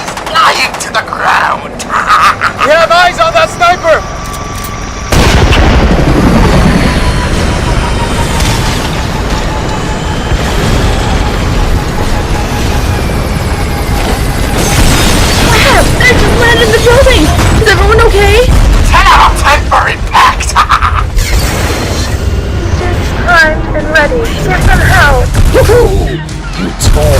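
Loud, nonstop battle noise: heavy booming explosions and rattling bursts of gunfire, with voices shouting over the chaos throughout, including a sniper being spotted.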